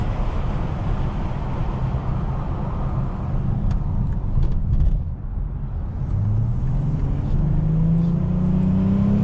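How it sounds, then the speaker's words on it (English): A 2020 Dodge Charger GT's engine drones steadily while driving, heard loud from inside the cabin with road noise, briefly dipping then rising in pitch as the car accelerates. "See if I can hear this engine work on this GT."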